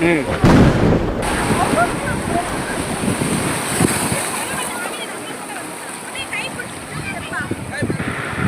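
Sea waves wash and roar on the shore at Kanyakumari, a steady, loud surf with a heavier crash near the start, while people talk.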